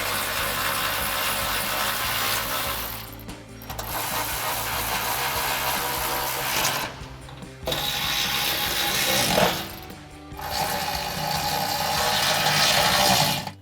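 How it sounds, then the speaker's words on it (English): A 10mm socket ratchet tightening nuts on a Jeep Gladiator JT exhaust install, rapid close clicking in several long bursts separated by short pauses, loud and alone with no talking. "Then you can take your 10mm socket and tighten these down."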